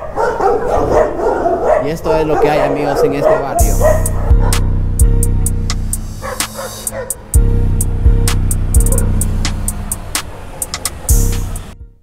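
Several dogs bark repeatedly in a steep neighbourhood street in Quito, loud sharp yaps and woofs in irregular bursts, sometimes overlapping, with someone talking at the start.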